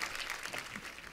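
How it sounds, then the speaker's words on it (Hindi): Faint, brief clapping from a studio audience applauding guests Zeenat, Anita and Poonam, a soft even patter heard from a distance. "जोरदार तालियां हो जाए एक बार जीनत जी, अनीता जी के लिए और पूनम जी के लिए"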